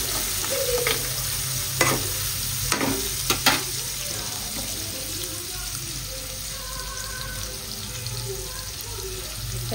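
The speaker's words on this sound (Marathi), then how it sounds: "लसूण कांदा हे मी घालणार आहे. आणि गॅस फास्ट करून याला चांगलं फ्राय करून घेते." Garlic and onion frying on high gas in a pan, a steady loud sizzle throughout with a few sharp stirring scrapes and clinks near the start.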